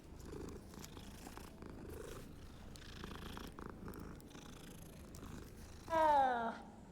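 A cat purrs continuously and close, a low rumbling drone throughout, ending with a short louder meow-like sound.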